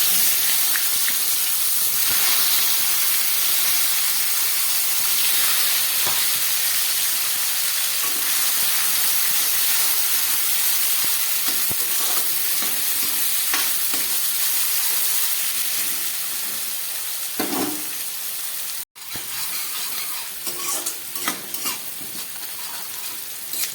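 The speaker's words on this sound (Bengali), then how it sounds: "এই তেলের মধ্যে আমি পেঁয়াজটা ভেজে নেব" Onion fries in hot oil with a loud, steady sizzle and hiss close by, broken by a brief sharp clatter near the end before the frying continues.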